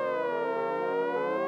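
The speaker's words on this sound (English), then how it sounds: "you hear them sirens?" A rich, rising-and-falling electronic tone wails steadily, like a synthesized siren, alone and fairly quiet.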